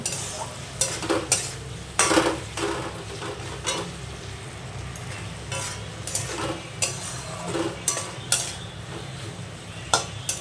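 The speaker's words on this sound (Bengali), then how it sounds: "খাসির চর্বিটা দিয়ে আমি সুন্দর করে কষে নেব" Goat fat frying and being stirred into a spice mixture for ghugni, a continuous sizzle with frequent spatula scrapes and light clinks against the pan, close up and without talk.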